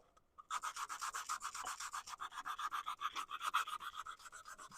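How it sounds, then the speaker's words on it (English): Turned wood piece being sanded to remove CA glue coloring, starting after a brief pause and then running as a rapid, rhythmic scratchy rubbing, close and steady for several seconds. "So I'm doing the same thing here, sanding off"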